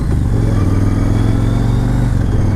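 A Yamaha Raider cruiser motorcycle pulls away hard from a standstill, its engine a loud, close, rumbling drone that holds steady through the short burst.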